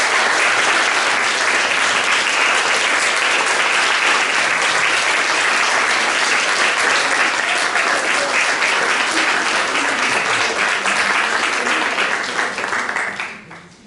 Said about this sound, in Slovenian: En aplavz za vse skupaj.